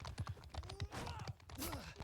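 Horses galloping in the video game cRPG2, with quick thudding hoofbeats in an uneven run, a whinny-like cry and a few clashing game sounds, fairly faint and without talk.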